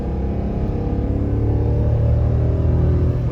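A 7.3 liter Ford Super Duty truck climbs a hill under heavy throttle, giving a steady, deep diesel rumble with exhaust drone, close and continuous, with no voices.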